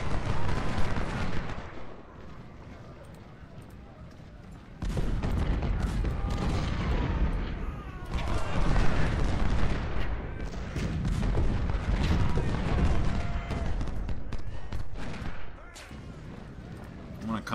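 Artillery cannons fire in Ultimate General: Civil War during the Cedar Mountain battle, rolling booms and volleys layered densely with sustained battlefield rumble and distant gunfire over several bursts.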